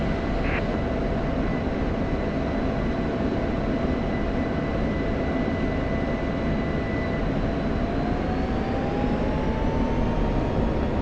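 An F/A-18 Hornet jet in a flight combat game drones with a steady, loud engine roar throughout, and a thin tone slowly rises in pitch near the end.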